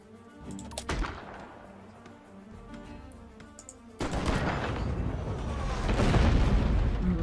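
Ship cannons firing during a naval battle in the video game Abandon Ship, heard as a dense run of booming blasts and rumbling impacts that swell louder in the second half, with no talk over them.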